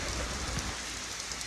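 Heavy rain pours steadily at a campground along an off-road motorcycle backcountry route, a dense, even hiss of drops drumming on surfaces with no voices.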